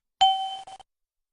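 A single non-repeating cockpit warning chime for an aircraft amber high-category alert, a clean, bright ding that rings for about half a second and then stops abruptly, heard alone.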